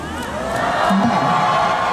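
At a film promotion appearance, a crowd's cheering swells over a couple of seconds, a dense roar of voices with a few whoops, building slightly louder toward the end.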